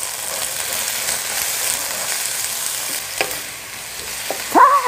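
Spinach sizzles and crackles as it is stir-fried in a hot pan for a salad with cherry tomatoes, a steady frying hiss with a few brief utensil clinks near the end, no voices.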